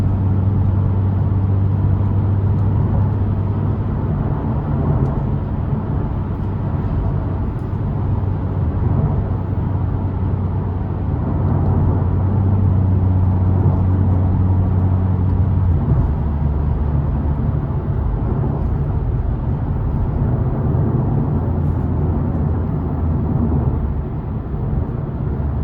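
Cabin noise inside a Ford Mustang while driving, a continuous low road and engine rumble that holds steady throughout, with no voices.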